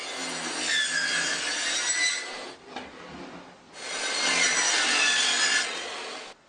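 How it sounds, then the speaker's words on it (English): Saw ripping along both edges of a wooden board, two long bursts of bright rasping cutting noise with a short dip between them, close and loud with no talk. "I'm ripping it on both sides just to make sure that what I have is straight."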